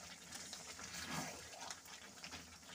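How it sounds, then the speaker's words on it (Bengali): Hot water pours into a pan of Bengali-style mutton and potato curry, a brief gushing splash that rises and fades, fairly quiet and close. "আমি এখন গরম জল দিয়ে দিচ্ছি একটু।"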